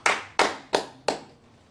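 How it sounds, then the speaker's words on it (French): Four sharp claps sound in even succession, close and crisp, each decaying quickly before the next, as a church congregation applauds the Lord. "Can we clap to the Lord?"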